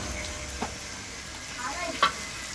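Beans and cauliflower are added to a pan of cooked-down spice paste, giving a steady soft sizzle with a couple of stirring scrapes, close and moderately quiet.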